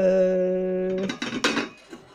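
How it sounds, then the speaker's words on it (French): A ladle clinks against deep bowls while homemade natural cat food is dished out in a home kitchen; ringing metallic taps and scraping come close and clear, with no talk. "avec ma louche et je remplis les écuelles creuses"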